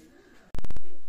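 Kamagar pigeons in a loft give a short burst of loud, close cooing, a quick run of throaty pulses after a quiet moment of faint room noise.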